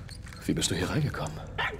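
A small dog in Far Cry 6 gives short yips and barks close by, mixed in with someone talking over it.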